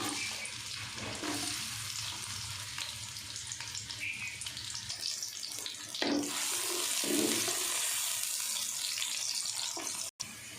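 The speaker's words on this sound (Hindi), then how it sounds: "घी हमारा गर्म हो गया, प्याज डाल देते हैं इसमें।" Onions frying in hot ghee in a kadai for Sindhi biryani, a loud continuous broadband hiss that swells sharply around the midpoint as they hit the fat, close and steady with no talk.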